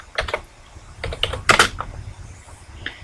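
Keystrokes on a computer keyboard tap out in short, irregular bursts, close and fairly quiet, with one louder flurry midway and brief pauses between.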